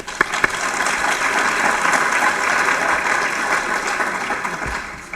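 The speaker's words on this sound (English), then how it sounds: "so I would like to give you another round of applause" An audience applauds teachers at an awards ceremony, steady clapping from a large crowd, loud and continuous for several seconds before tapering off.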